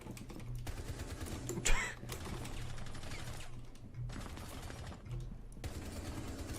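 Video game gunfire volley crackling as dense rapid shots in long stretches, a firing-squad burst of many overlapping pops, moderately loud with brief gaps and no talk.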